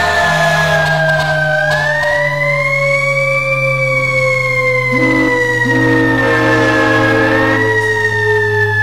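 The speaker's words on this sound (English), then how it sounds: "as you can hear, it's quite crazy with the sirens and everything" Fire truck sirens in the EmergeNYC video game wail continuously and loudly, rising and falling tones overlapping with a steady low horn-like drone, several sirens layered together without pause.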